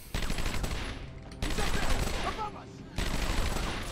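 Gunfire in a video game: three loud bursts of rapid automatic fire, each cutting off abruptly, close and dense, with no talk over them.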